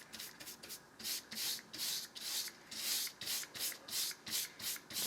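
A coarse brush with cut bristles dragged across a surface to make marks, a rhythmic scratchy rubbing of repeated strokes, close and fairly quiet, with no voices.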